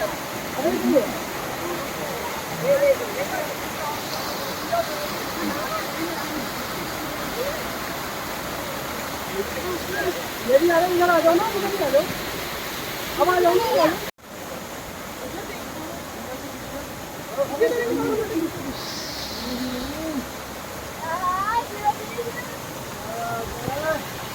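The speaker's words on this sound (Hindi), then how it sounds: "ऊपर से जो गिरता हुआ वो दिखता है वाटरफॉल" A waterfall near Nainital sends a constant broadband rush of falling water through the background while people talk over it at close range.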